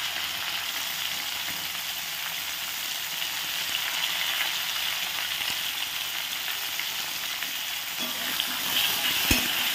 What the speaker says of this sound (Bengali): এবার আমি সবজিগুলোকে ভালো করে ভেজে নেব।